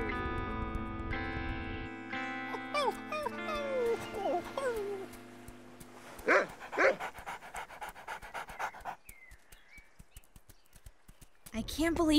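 A cartoon dog pants in quick rhythmic bursts amid music and clopping effects, with brief voices around it.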